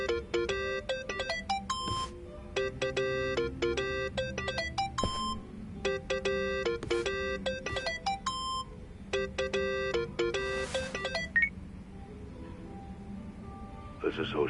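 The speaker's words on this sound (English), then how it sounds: "Think that's your phone, man." A phone ringtone in Yakuza: Like a Dragon plays as a repeating electronic melody of bright beeping tones in bursts, with brief pauses between phrases over low background sound.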